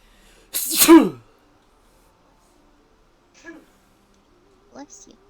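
One loud, sharp sneeze bursts out close to the microphone, followed by a few seconds of near silence and a couple of faint, brief sounds afterward.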